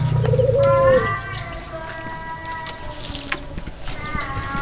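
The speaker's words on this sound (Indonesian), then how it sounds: "ini ada puter lumut juga." A puter lumut dove coos in a bird collection with a repeated, layered cooing call over a continuous background. A louder low hum is heard at the start, and a voice talks quietly in the background.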